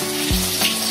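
Ginger dropped into a pot while cooking sinigang na bangus sa bayabas, giving a short burst of sizzling frying noise close by, with no talking.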